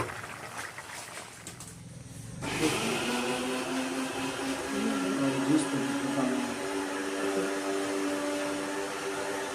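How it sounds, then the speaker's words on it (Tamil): After a quieter opening, a kitchen blender making juice switches on with a loud, steady motor whir that holds through to the end. "டேடி வந்து நமக்கு தான் ஜூஸ் போட்டுருந்தார் அதுதான் அந்த சவுண்டு"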